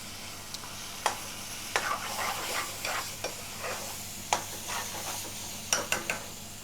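Lamb frying and being stirred in a curry pan at a takeaway kitchen, a steady sizzle broken by repeated scraping stirs and occasional utensil clinks, close and fairly loud with no talk.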